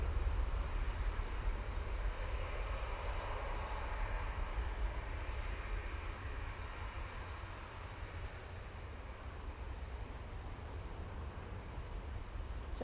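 A Gulf Air Boeing 787-9 Dreamliner on short final at Manchester Airport produces a continuous engine roar with deep rumble, loud and fairly close, easing slightly as it passes.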